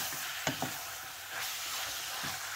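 Minced beef with 20% fat frying with softened onions and garlic for chilli con carne, a steady close sizzle broken by a few scraping stirs, no voices.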